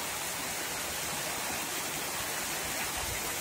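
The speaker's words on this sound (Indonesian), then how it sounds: "Karena hujan terus dan juga sungainya meluap tuh" Swollen Citarum River at a ferry crossing in Cimahi village, Rawang, overflowing after days of continuous rain, a steady loud broadband rush of flood water with no break, close and alone.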